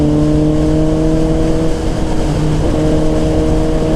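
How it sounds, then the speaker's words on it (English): A Suzuki GSX-S750 four-cylinder motorcycle engine hums loudly and steadily at speed, with a strong droning tone that dips briefly midway before settling back, heard close with wind rumble. "that hum is really, really nice. That 4-cylinder deal."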